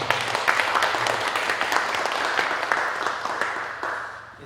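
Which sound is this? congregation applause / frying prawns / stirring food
congregation applause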